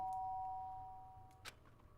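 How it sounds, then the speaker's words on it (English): A doorbell chime in the video game Danganronpa: Trigger Happy Havoc, a steady electronic tone that rings out, then fades under a low background hum, with a short knock-like burst near the end. "The sharp sound of the doorbell pierced my sleepy haze and pulled me back to the real world"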